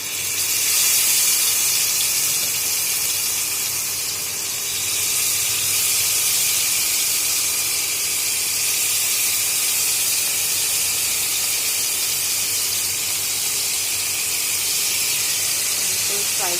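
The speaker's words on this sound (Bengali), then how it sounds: "কড়াইতে আমি এখানে তেল গরম বসিয়ে দিয়েছি। এবার ফার্স্টে আগে একটু ভাজা করে নেব" Marinated chicken frying in hot oil in a kadai, a steady, loud hiss of sizzling oil that holds evenly throughout without a break.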